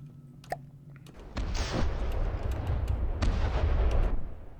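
Heavy naval turret guns on a warship fire in the combat game From The Depths, several deep booms rolling into a sustained loud rumble of gunfire.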